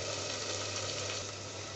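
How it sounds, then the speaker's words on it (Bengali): A little water poured into frying onion masala for a Bengali beef curry, producing a faint, even sizzle and bubbling hiss that stays steady throughout. "এখন দিয়ে দিচ্ছি সামান্য পরিমাণ পানি।"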